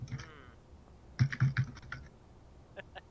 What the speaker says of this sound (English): Somebody's typing loud.